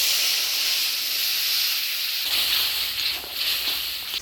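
Mustard paste for mustard hilsa hitting hot oil in a pan, a loud, steady broadband sizzle and hiss that swells slightly partway through, with no talk.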